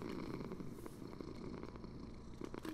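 A cat in the Minecraft video game purrs softly and steadily, a faint, close, low rumble running alone for a few seconds with no talk.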